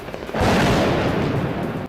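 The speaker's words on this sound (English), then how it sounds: "Smoke swirling inside a perfect circle erupted with small explosions" A loud burst of crackling, rumbling blasts starts abruptly and continues as a dense, popping roar of small explosions.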